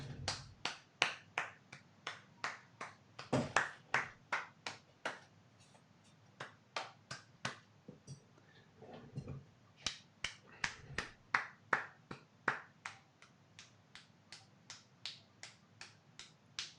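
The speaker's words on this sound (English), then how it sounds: "I won't clap too loud." One person claps alone at a steady, quiet pace, with sharp, evenly spaced claps that keep going with only short pauses. The room is otherwise quiet and nobody talks.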